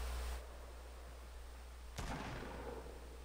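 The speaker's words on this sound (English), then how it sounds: "I hear gunfire." A single sharp video-game gunshot rings out partway through, followed by a decaying rumble, against a steady low hum and faint background noise.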